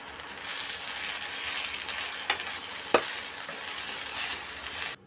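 Brinjal (eggplant) pieces stirred with salt and turmeric in a pan, a steady soft frying sizzle with a few sharp scrapes of the spoon near the middle, close and moderately loud, no voices.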